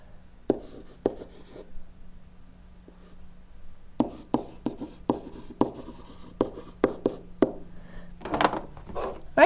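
Marker or chalk writing on a classroom board during a geometry lesson, heard as a series of crisp taps and short scratchy strokes, sparse at first, then quicker and denser toward the end.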